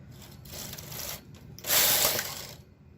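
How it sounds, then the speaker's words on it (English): A K carriage sweeps one row across a domestic knitting machine set at tension 10 with yarn loaded, giving a steady ratcheting mechanical rasp that builds to a louder surge near the end of its travel before stopping. "I'm going to knit one row across"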